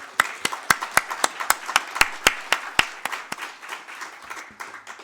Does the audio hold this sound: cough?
no